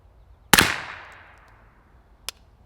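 A CZ Scorpion fitted with a Novox Research X-SD barrel fires Monarch 115 grain ammo. One sharp, loud report rings out with a long decaying tail, followed by a fainter, shorter bang a moment later.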